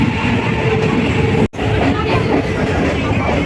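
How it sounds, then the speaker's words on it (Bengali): A Kolkata Chakra Rail train pulling out of Kolkata station toward Tala: a loud, steady rumble of rolling wheels and carriage noise, interrupted by one brief cut, with faint crowd murmur underneath. "কলকাতা থেকে ট্রেন ছেড়ে চললো টালার দিকে।"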